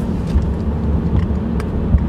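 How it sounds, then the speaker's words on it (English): A 2018 Hyundai Ioniq Electric drives along with strong regenerative braking, giving a steady low road and tyre rumble from inside the cabin with no engine note and no talk. "You can do most of the driving with one pedal without touching your brakes"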